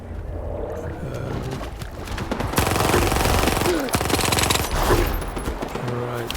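Rapid 9mm handgun shots from the game S.T.A.L.K.E.R. 2 ring out in fast repeated cracks, loud and dense midway, over layered game ambience and creature noises.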